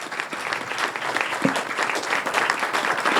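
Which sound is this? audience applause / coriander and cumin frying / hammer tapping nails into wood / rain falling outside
audience applause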